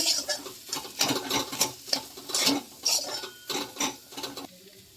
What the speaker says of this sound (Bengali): ভালো করে এর সঙ্গে নেড়ে নিতে হবে